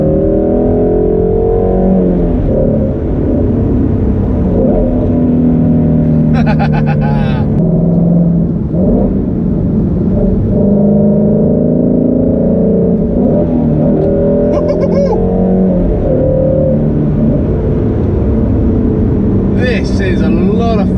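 Ferrari 458 V8 engine revving as the car drives, a loud continuous sweeping drone that climbs and falls in pitch through the run, with brief high whines near the middle and the end.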